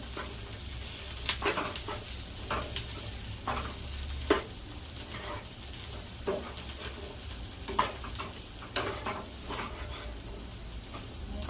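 Corn sevdo ingredients, cooked lentils and chili, are stirred together in a sizzling pan, with repeated scraping and knocking strokes at an uneven pace over a soft, steady fry.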